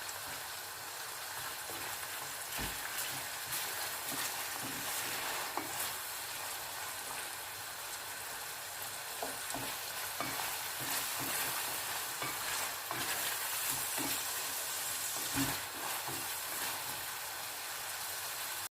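Garlic buttered shrimp sizzling steadily in a pan while being stirred, with a continuous crackling fry broken by frequent scraping clicks of the spoon, moderately loud and close, with no voices.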